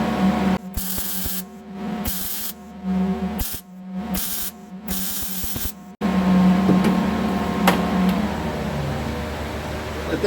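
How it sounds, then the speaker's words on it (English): Welding along rear frame rails gives a loud, steady crackling hiss that cuts in and out in short bursts before settling into one long continuous bead, close and harsh throughout. "I just got to weld this side up"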